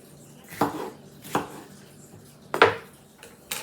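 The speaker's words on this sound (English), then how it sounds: "I'm gonna cut pepper chunks, and then I'm gonna cut some onion chunks" A knife chops pepper and onion chunks for chicken kabob skewers, landing four sharp, separate cuts on a board with pauses between them, close and fairly loud in a quiet kitchen.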